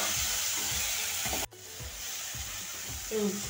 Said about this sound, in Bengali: ভাজা ভাজা হয়ে গেছে টমেটো